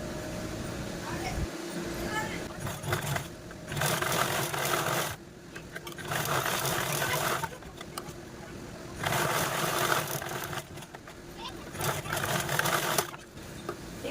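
An electric sewing machine stitches a bag made from a blouse piece. It runs close and fairly loud in several whirring bursts of a few seconds each, with short pauses between them and no talk.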